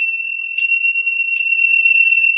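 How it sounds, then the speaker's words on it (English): Tibetan tingsha chimes struck twice, each strike giving a bright, piercing metallic ring whose steady high tone sustains and overlaps through the whole passage with no voices. "These are the chimes that I'm referring to."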